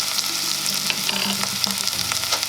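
Chopped onions and green chili sizzle and fry in hot oil in a pan for a village-style Kongu fish curry, with a steady close crackle and occasional stirring scrapes throughout.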